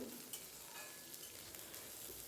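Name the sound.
vegetables frying in a pan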